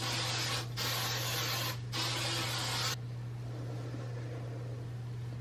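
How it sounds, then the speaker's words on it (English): Three bursts of hissing aerosol hairspray on hair, close and loud with short gaps between them, over a steady low hum. "Now I'll add some hairspray."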